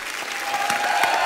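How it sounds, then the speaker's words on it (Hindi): A studio audience on the Kapil Sharma Show applauds Bhojpuri film star guests. The clapping is brief and energetic, and a steady musical tone holds underneath it. "एक बार जोरदार तालियां हमारे मेहमानों के लिए"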